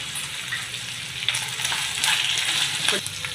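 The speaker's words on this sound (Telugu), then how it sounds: "ఇవన్నీ బాగా వేయించుతాం." Constant sizzling of onions and drumsticks frying in a pan, with a couple of brief scrapes from stirring.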